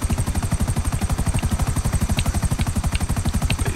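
Helicopter rotor chopping in GTA 5 Online, a fast, even thudding pulse under a constant engine whine, loud and steady with no talk.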